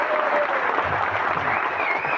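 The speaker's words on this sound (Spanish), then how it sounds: "quiero pedir un aplauso para mis padres en este caso, pero también para todos los padres" A festival crowd applauds after a speech, a steady, dense wash of many hands clapping at moderate loudness with no break for the whole stretch.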